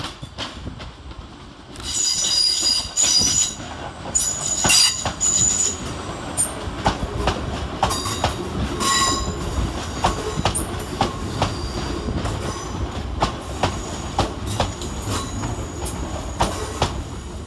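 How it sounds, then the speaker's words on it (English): A West Midlands Railway class 350 electric train pulls into a station, its wheels clattering and squealing over the rails, and loud metallic screeches and clicks rise and fall across the passage, with no talk. "Arriving next into the station is 350-261, working the 12:26 West Midlands Railway service from Birmingham New Street to Crewe"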